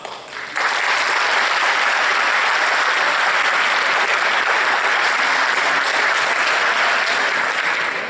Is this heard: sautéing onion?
no